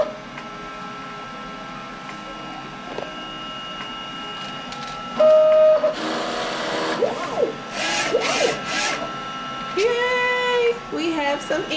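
A DTF printer runs a nozzle test after printhead cleaning, giving a steady mechanical hum broken by short whirring carriage passes and a few higher motor whines near the end.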